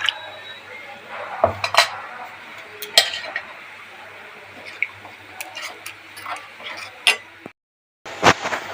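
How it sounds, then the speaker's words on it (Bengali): A spoon stirs chili, turmeric and coriander powder with water in a small bowl or pot, making close metallic clinks and scrapes in irregular bursts with short pauses. "এটা আমি ভালো করে গুলে নেব জল দিয়ে"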